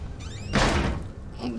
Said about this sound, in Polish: Czemu ja nie mogę zamknąć tych drzwi?